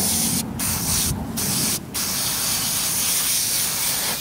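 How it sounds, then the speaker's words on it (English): Weaver Pro Foam coating is sprayed from a can onto a livestock animal's udder, producing a loud, close hissing spray in three short bursts, each followed by a brief gap, then one long continuous spray. "We're going to put this Pro Foam on there just because it coats it just a little bit better."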